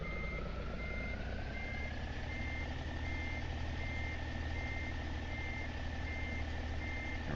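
A truck in American Truck Simulator reverses with a steady run of evenly spaced electronic beeps over a low idling diesel rumble, the beeping continuing loud and regular throughout.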